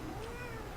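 A cat at a window gives a single short meow, faint and close, heard alone.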